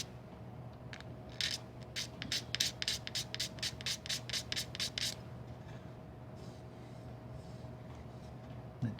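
A scraper works over cured UV resin on the top of a Harley Benton TE-90FLT guitar, giving a quick run of about a dozen short, rhythmic scraping strokes, faint and close, then a low steady hum.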